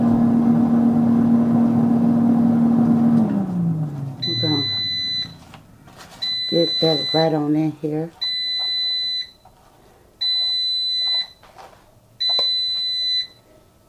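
A smoke alarm chirps in repeated short beeps at steady intervals while lobster tail is cooked with butter, with a person talking between them and a sizzling hum at the start.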